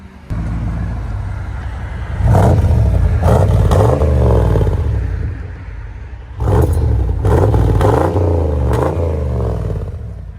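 Revving of a 1994 Chevy 1500 pickup with a 5.7L V8 through a Flowmaster 40 Series exhaust, idling as a deep rumble and then blipped hard in two loud bursts of throttle, close to the tailpipe.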